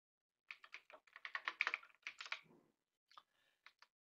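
Clicking keys on a computer keyboard as an employee code is entered into a LibreOffice Base table in Design View: a quick, close burst of keystrokes, then a pause and a few scattered taps.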